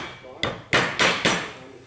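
A rubber mallet, a soft hammer, strikes four times while tapping a seal into place, each blow a sharp, close thud spaced under a second apart over a quiet workshop background.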